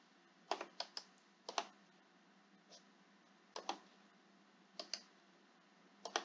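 Keystrokes on a computer keyboard as a paper title is typed, sounding as short clustered bursts of clicks separated by pauses, fairly close and alone without talk.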